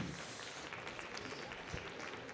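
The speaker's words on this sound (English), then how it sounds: "un tour d'applaudissements pour nos juges internationaux" Faint, distant applause rises from the audience at a barista competition final, a soft continuous wash of clapping heard from far off.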